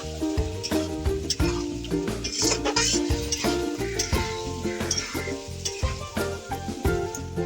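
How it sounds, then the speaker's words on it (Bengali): Chicken stir-fried kosha-style in a pan with spiced masala, loud close sizzling with repeated stirring strokes over background music. "তারপরে এর উপরে দিয়ে দিচ্ছি চিকেনটা আমি কিছুক্ষণ কষতে দেবো।"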